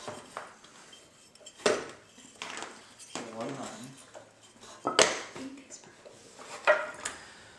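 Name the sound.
metal chisel clinking as it is handled from toolbox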